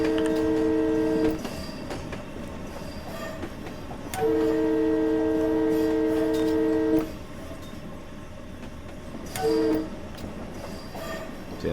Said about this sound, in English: I think you just have to blow the horn as you're going through the crossing